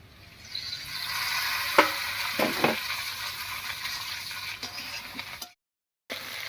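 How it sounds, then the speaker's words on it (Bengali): Potatoes frying in a pan give a steady close sizzle with a few brief clinks of stirring, cut by a short silent gap near the end before the sizzle resumes. "আলুটা বেশ কিছুক্ষণ রান্না হয়ে একটু ভাজা ভাজা মতন হয়ে গেছে"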